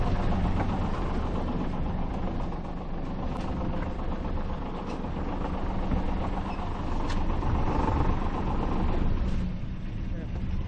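A sailboat's engine idles steadily at the dock, a low, even rumble holding at moderate distance for the whole stretch, without notable changes in pitch.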